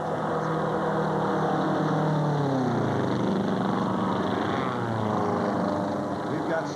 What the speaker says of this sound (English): We only have 6 planes now on the race as they come around to complete the first lap.